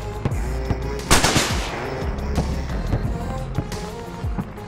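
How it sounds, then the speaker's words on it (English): Video game gunfire rings out as a series of loud, sharp shots with echoing tails, spaced irregularly across the clip, close and dominant. "I'm firing."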